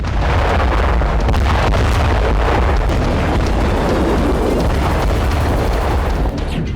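A loud, roaring explosion fills the whole stretch, a sustained rumbling boom with crackling texture and no voices, in Britain.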